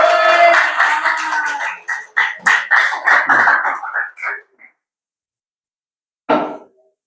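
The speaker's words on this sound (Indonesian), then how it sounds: "Boleh tepuk tangan" A classroom of students claps for a student group, a burst of sharp hand claps with a few voices mixed in that fades out after about four seconds, followed by silence and one brief later sound.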